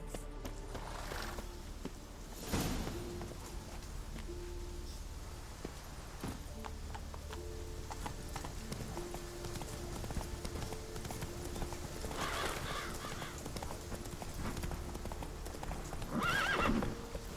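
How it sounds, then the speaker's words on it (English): A horse in The Witcher 3 video game clip-clops at a steady walking rhythm throughout, with several loud whinnies breaking through over the continuous hoofbeats. "That's it, Roach. Come on."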